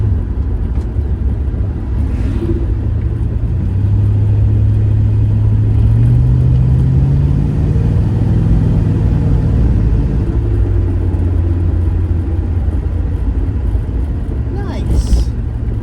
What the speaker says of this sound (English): just driving the car.